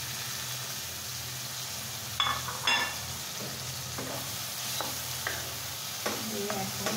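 Garlic, ginger and onion paste hitting hot oil with fried tomato in a pan, a soft continuous sizzle broken by a few scraping stirs and clinks of a spatula.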